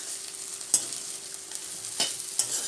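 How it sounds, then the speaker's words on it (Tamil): Soya chunks fry lightly in oil with a soft, steady sizzle, broken by a few sharp scraping clicks of stirring in the pan. "அதுக்காகத்தான் நம்ம இப்போ லைட்டாக எண்ணெயில் வறுத்தெடுத்துடலாம்."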